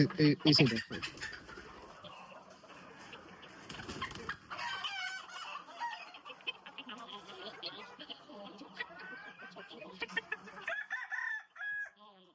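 Hens and chicks cluck and call, busy and close, with a rooster's crow and a human voice mixed in among the birds.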